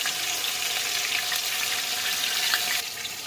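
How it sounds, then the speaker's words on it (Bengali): Chopped onion, garlic and bay leaf frying in hot oil, a steady close sizzle that holds evenly throughout with no talking. "তেল গরম হয়ে গেছে পেঁয়াজ কুচি রসুন কুচি তেজপাতাটা দিয়ে দিচ্ছি"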